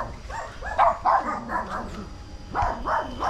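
Several dogs bark repeatedly at night on a farm near a corral, with bursts of yelps and barks coming in quick clusters at moderate distance, no talking over them.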